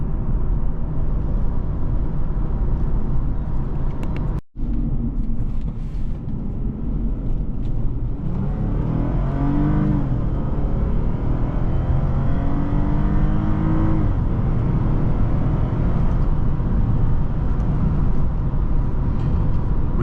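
A 2006 Lexus IS250 cruising on a freeway, with steady loud road and engine drone throughout, a brief dropout near the start and a faint rising engine whine building in the middle.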